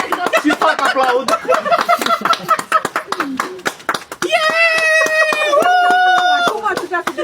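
Several people clap by hand after a marriage proposal, rapid sharp claps at first, then clapping continues under excited voices and laughter.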